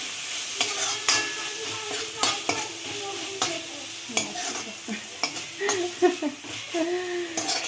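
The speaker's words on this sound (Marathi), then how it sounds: "किसलेलं पनीर तर ते मी आता ह्याच्यामध्ये गॅस बारीक करून घ्यायचं" Grated paneer being stirred in a hot pan for paneer bhurji, with a steady sizzle under repeated scraping and clinking strokes of a spoon against the pan, close and moderately loud.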